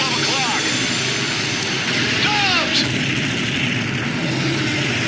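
Aircraft engines roar steadily through a helicopter dogfight scene in an action movie, with whooshing passes and radio chatter voices layered over the continuous loud engine noise.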